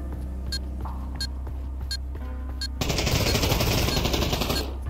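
Gunfire in the Pavlov VR shooter game: a few spaced single shots, then a dense, loud rapid automatic burst lasting about two seconds over a constant low background hum.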